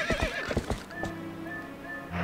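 Epona the horse from Zelda: Twilight Princess gives a sharp whinny over a few quick hoof clip-clops, then a sustained tonal neigh trails on, close and clear with no talking.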